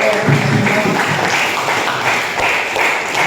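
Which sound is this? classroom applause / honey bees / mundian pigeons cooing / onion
classroom applause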